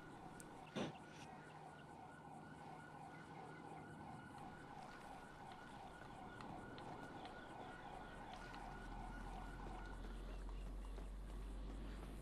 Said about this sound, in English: I can hear sirens now.